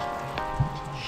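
Outdoor shower at a glamping site in Bohol, Philippines, running with a steady close hiss of falling water spattering on a surface, broken by one brief low thump partway through.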